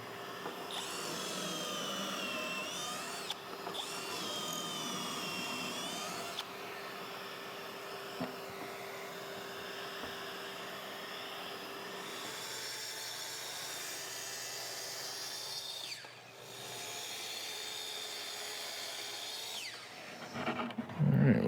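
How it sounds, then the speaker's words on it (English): A power drill bores pocket holes into a wooden camper-van galley cabinet piece, whining steadily at close range through several long runs with brief pauses and small changes in pitch. "I'm gonna get some pocket holes drilled into this one"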